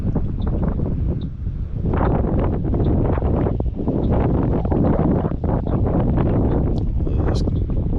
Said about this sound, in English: This gust of wind has other plans for me.